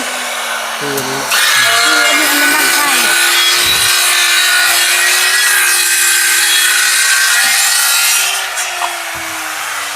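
A hand saw cuts through wood outdoors near a house, with steady rasping back-and-forth strokes, loud and close, and a faint background voice.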